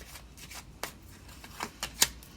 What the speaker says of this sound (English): I gotta shuffle this a little bit more.